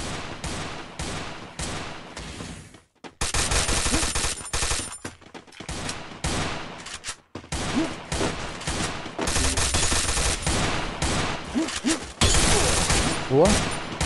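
Gunfire in the battle royale game Free Fire: dense rapid bursts of automatic shots crackling loudly in long sustained volleys with brief gaps, close and harsh, with a voice talking at times beneath.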